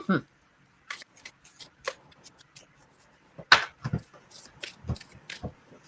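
Tarot cards being shuffled during a live reading session, giving sparse papery riffles and soft slaps in short bursts, close and fairly quiet, with brief background voices.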